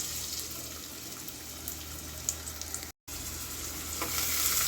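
Finely chopped large onions frying in hot oil in a pan, a soft continuous sizzle with light stirring scrapes, fairly quiet, broken by a brief dropout near the middle.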